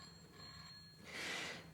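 An old telephone bell ringing in the 1935 film The 39 Steps, a faint, thin ring with a short louder burst near the end and no voices.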